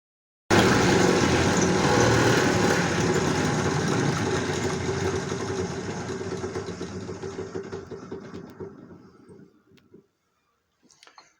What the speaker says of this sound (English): So we'll start by just sanding that end on the makeshift sander.